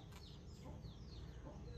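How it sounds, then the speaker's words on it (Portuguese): Small birds chirp at a rural countryside homestead, with short repeated high twittering calls over a steady low background hum. "É os passarinhos. Começou."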